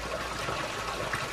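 Water trickling steadily from the sour spring fountain in Portugos, in the Alpujarra of Granada, a soft continuous splashing flow heard close up with no talk over it.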